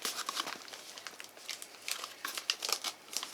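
Crinkling and tearing of brown wrapping paper as a parcel of model railway items is unwrapped, close and continuous with irregular crackling bursts, no talking.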